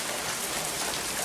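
Heavy storm rain pours down in a dense, steady, loud wash of patter, heard alone without voices.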